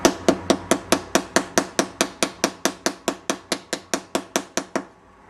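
A rubber mallet taps repeatedly on a marble windowsill, about twenty crisp, evenly spaced knocks in a steady rhythm, close and fairly loud, with no voices.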